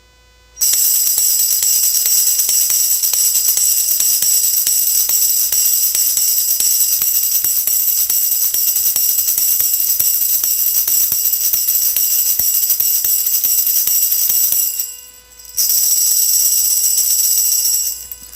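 A tambourine, shaken and struck, gives a loud, sustained metallic jingling for most of the clip, stops briefly near the end, then resumes, bright and bell-like.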